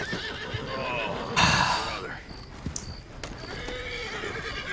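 In the video game Red Dead Redemption 2, a horse gives a loud, shaky whinny and its hooves clip-clop at a walk, with a voice talking over it.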